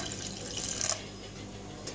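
Water pours steadily into a vessel while a wooden churner is rinsed after mashing greens, a soft continuous splashing trickle heard close up and alone.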